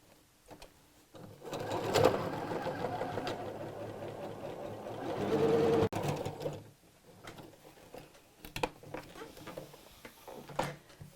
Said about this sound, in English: I'm going to do a second row of top stitching across the top of here on the contrast fabric